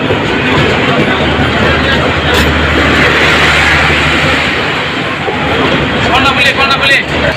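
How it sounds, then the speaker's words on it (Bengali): The Kalni Express leaves a junction station in Bangladesh with a loud, continuous broadband rumble and rattle of rail cars that rises and ebbs slightly, with a voice mixed in. "কালুনি এক্সপ্রেস ট্রেনটি বাজার জংশন ছেড়ে যাচ্ছে"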